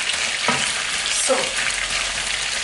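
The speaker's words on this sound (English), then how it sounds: "we are going to allow the first side to fry for at least 5 minutes, then we turn it over." Paella ingredients fry in a pan with a loud, steady crackling sizzle close by, broken by two brief scraping stirs.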